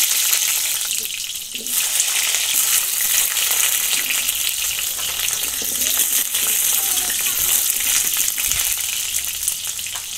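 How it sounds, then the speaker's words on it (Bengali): Potatoes frying in hot oil in a wok over a wind-blown village fire, a loud steady sizzle and crackle that rises and falls slightly throughout, with occasional stirring and no speech. "প্রথমে আলুগুলো ভেজে নিচ্ছি"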